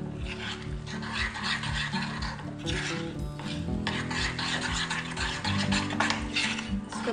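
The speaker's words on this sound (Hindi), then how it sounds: "पहले दूध से बना लेती हूँ ताकि इसमें गुठलियाँ नहीं बने। अच्छे से मिक्स कर लें" Rapid, rhythmic whisking of batter with milk in a bowl, a utensil scraping and tapping repeatedly against the sides at close range, continuous and fairly steady, with faint background tones.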